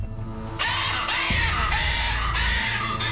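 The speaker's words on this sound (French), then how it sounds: "Les perroquets, ça crie toujours énormément quand on les attrape, c'est horrible." A parrot being caught for a blood draw in a veterinary infirmary screams loudly and harshly, with piercing calls in quick succession, close and with no talking over them.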